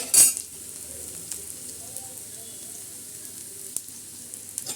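Onion roasting on a hot tava griddle, with a soft, steady sizzle close by after a brief sharp burst of noise at the start.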